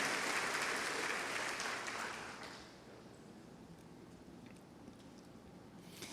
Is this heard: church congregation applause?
yes